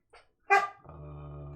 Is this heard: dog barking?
yes